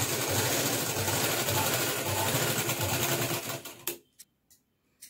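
Sewing machine stitching the lining of a party-wear frock, a rapid steady whirring chatter for nearly four seconds, then stopping, followed by a few sharp clicks and knocks.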